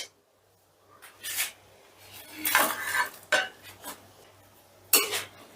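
A spoon scrapes and clatters in a pan while fried rui fish is tossed with green chillies in a spicy gravy, coming in several distinct bursts of stirring with quiet gaps and a faint low hum between them.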